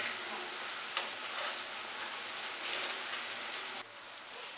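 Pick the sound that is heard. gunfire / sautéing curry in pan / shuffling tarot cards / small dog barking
sautéing curry in pan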